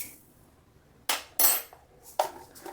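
A metal spoon scoops mustard seeds in a home kitchen while making raw mango chutney, giving a few separate clinks and short gritty rattles, close and fairly quiet, with no talking.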